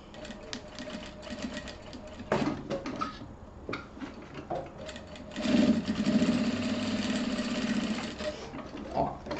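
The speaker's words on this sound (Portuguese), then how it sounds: "Vou passar uma costurinha aqui na volta pra rebater e ficar bonito" Sewing machine stitching around a fabric wallet with three zippers, bursts of rapid mechanical chatter that stop and restart, with a longer run near the end.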